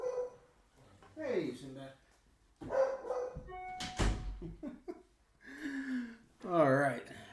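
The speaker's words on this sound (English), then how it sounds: "Let me shut my door since my dog won't shut up." A dog barking and yipping indoors behind a door, short loud bursts mixed with whimpers, interleaved with someone talking nearby.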